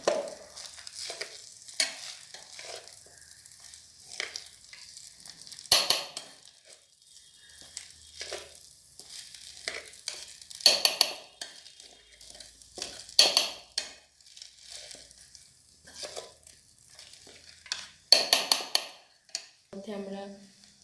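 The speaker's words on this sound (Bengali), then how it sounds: "এরপর আমরা এটা একটু নাড়িয়ে নেব।" A spoon stirs Maggi noodles inside an electric kettle, scraping and clinking against the metal in scattered strokes, with someone talking between them.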